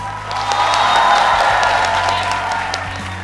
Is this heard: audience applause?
yes